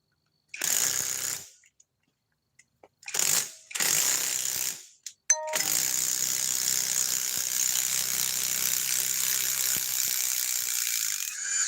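A cordless drill whirs in short bursts, then runs continuously at a steady pitch, straining as it drives into hardwood, close and fairly loud.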